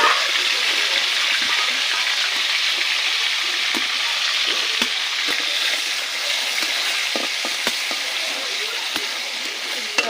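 Onions frying in hot oil in a wok, set for a mutton curry, give a steady close hiss and crackle with small pops throughout, with no talk over it.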